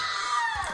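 A short scream sound effect from the Minecraft game, heard on a Halloween horror map. It is one brief, high, falling cry at moderate volume, heard alone.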